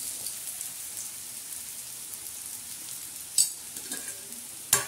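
Coriander, garlic and chilli gram-flour vadis fry in hot oil with a soft, steady sizzle and faint crackle, broken by two sharp spattering pops near the end, no voices.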